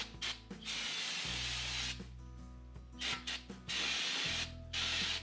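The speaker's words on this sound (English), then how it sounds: "hit this with some brake clean." Brake cleaner sprays onto a Jeep Wrangler JL brake rotor during a PowerStop Z36 brake upgrade, with several close, loud hissing bursts separated by short pauses and clicks, no talk.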